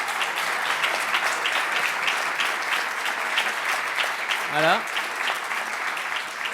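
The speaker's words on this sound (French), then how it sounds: "vous pouvez tous applaudir Céline Claire-Remonet" Sustained applause from a seated audience at a French round-table panel on industry and training, steady and dense throughout, with a brief spoken word near the end.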